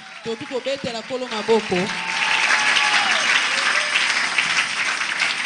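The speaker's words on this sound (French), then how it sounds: "Est-ce qu'on peut acclamer le Seigneur?" A church congregation bursts into applause and cheering after a prayer, a broad, steady wash of many clapping hands that fills the room for several seconds, rising after a brief stretch of speech at the start.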